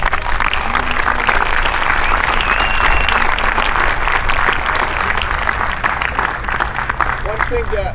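A crowd applauds steadily throughout at a high school baseball championship game, a dense, continuous wash of clapping from many hands.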